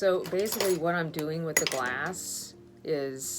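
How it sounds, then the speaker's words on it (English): Metal lampworking mandrels clinking and jangling together as one is pulled from a bunch, light metallic chinks over and between a man's speech. "Let me grab a fresh mandrel."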